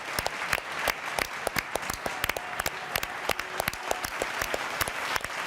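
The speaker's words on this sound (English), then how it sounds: "Round of applause. What a career for Barca." A stadium crowd at a Barcelona versus Mallorca football match applauds a departing left back, sustained distant applause punctuated by loud, sharp nearby claps.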